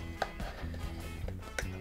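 A knife saws through a cheap store-bought frozen pizza, giving a few short crunchy cuts and scrapes, the sharpest near the start and end, over a low steady background hum.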